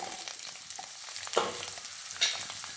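Beans, carrot and potato frying in hot oil, a faint steady sizzle with a couple of louder stirring scrapes, heard close with no one speaking.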